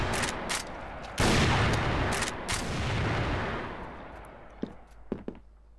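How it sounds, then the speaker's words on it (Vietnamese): Rapid automatic gunfire from the FR-F2 Halloween rifle in the CrossFire shooter game, dense sustained bursts filling the first seconds, then tapering into scattered single shots and faint trailing pops. "Con súng này bắn khá là phê anh em ạ."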